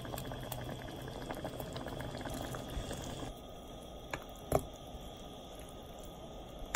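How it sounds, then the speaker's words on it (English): Ground pork boiling in a pot with salt and black pepper, a steady bubbling that drops to a quieter simmer partway through, with a brief clink near the end. "So we just have to boil this ground pork"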